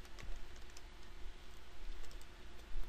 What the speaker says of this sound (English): let's just begin typing the information